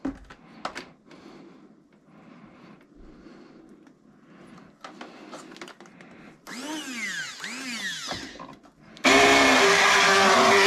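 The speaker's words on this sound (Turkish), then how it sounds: "Bu blender'ın şu oynamasa iyi." Quiet handling and clatter, then a blender whirs up and down in bursts before roaring loudly at full speed.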